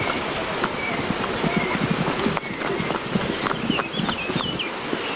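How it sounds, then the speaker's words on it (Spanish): A small Asturcón pony moves at a steady clip-clop, its hooves tapping in a quick, continuous rhythm close by over a busy outdoor background. "No es un caballo, es un pony asturcón"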